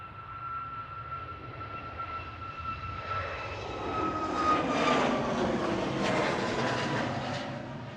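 A Boeing 737 MAX 8-200 departs from Manchester Airport, its jet roar building steadily from a moderate distance to a broad, louder peak with a sustained whine, with no talk over it.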